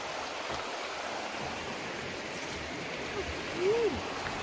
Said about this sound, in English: So we've been hearing the river for a while, and finally we're here.